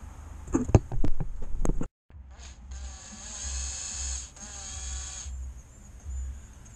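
Work on a sensor on a 2009 Chrysler Grand 2.8 CRD engine begins with a few sharp knocks, then a high, buzzing whir from a power tool runs for several seconds before cutting off.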